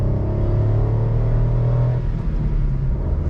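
A 660cc Suzuki Alto VXR engine revving in first gear as the car accelerates, a loud steady low rumble with rising engine tone that drops slightly after two seconds, heard from inside the car.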